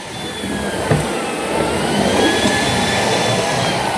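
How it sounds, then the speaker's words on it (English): A Shark PowerDetect IP1255 cordless vacuum cleaner runs with a loud, steady high-pitched whine and airy rush, continuous and close, picking up hair from the floor. "Everything is going into the dustbin and not wrapping around."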